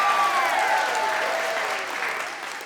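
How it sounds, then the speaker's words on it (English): Applause from a studio audience at a children's quiz show, a loud, dense wash of clapping that fades slightly toward the end. "Big round of applause for Aaron."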